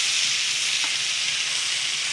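Frozen vegetables searing in a hot skillet give off a steady, close broadband sizzle and hiss, with one faint brief tick partway through and no voices.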